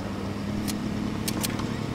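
A pickup truck drives in a video game, its engine giving a steady low rumble with a few sharp, brief clicks layered on top, and no voices.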